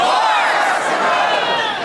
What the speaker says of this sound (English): I want a big cheer at the end